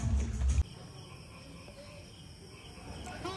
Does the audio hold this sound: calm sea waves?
no